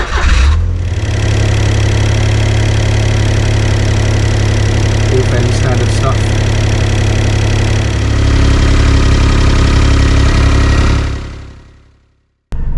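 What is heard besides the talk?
2008 Smart Fortwo 451 engine idling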